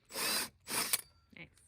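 A power drill bores holes into a scrap plywood board in two sharp, whining bursts close by, followed by a brief softer mechanical rattle.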